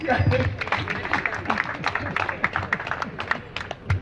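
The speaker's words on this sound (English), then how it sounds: "Let's clap for Sandy" An audience applauds a speaker at a conversation event, with dense continuous clapping from a crowd that stays fairly steady throughout.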